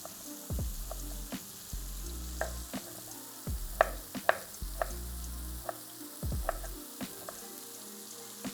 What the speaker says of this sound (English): we're gonna start slicing the pickles